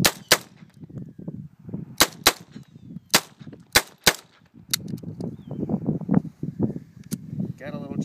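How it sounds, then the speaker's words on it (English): A USFA .22 Zip gun firing, several sharp, loud single shots spaced irregularly, with someone talking between and after them. "Go ahead and chamber it, point and shoot."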